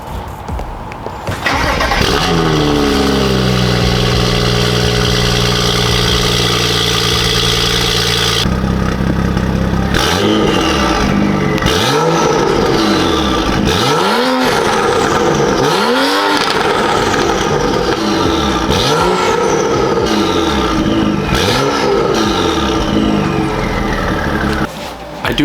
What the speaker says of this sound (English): I'm going to play a cold start for you guys because I have yet to start my car today.